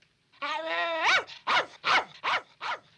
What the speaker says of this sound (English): What's that dog barking at?